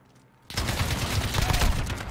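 Gunfire in the online beta of Call of Duty Modern Warfare on PS4 erupts suddenly after a quiet moment, a dense loud burst of rapid shots and impacts continuing to the end.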